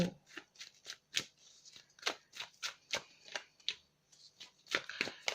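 Tarot cards shuffled for a love reading: close, crisp bursts of riffling and snapping cards in an uneven rapid rhythm, repeated throughout with short gaps, no voices.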